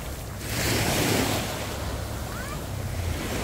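Surf at Jomtien Beach in Pattaya, Thailand, a steady broad wash of breaking ocean waves with wind rumbling across the microphone, fairly loud and continuous, with no clear voices.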